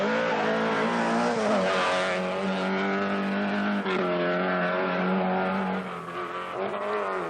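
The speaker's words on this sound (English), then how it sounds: "As Toivonen momentarily locks up a front wheel, he's actually fighting a battle to be the first conventional saloon car finisher" A conventional saloon rally car on the 1982 Monte Carlo Rally, driven by Toivonen, fights a front wheel locking up. Its engine roars loud and close in a steady, harmonic drone that dips briefly near the end.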